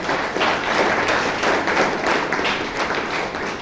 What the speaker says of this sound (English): So please give Kolappan a big round of applause.